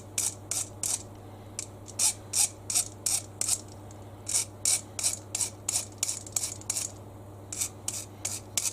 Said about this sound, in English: I'm just going to literally file the top just to take off any sharp bits of metal